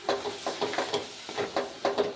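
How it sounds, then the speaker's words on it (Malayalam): Lemon pickle masala frying in oil, stirred with repeated scraping strokes in a steady rhythm over a soft sizzle, close and moderately loud. "നല്ലപോലെ ഇളക്കി കൊടുക്കണം"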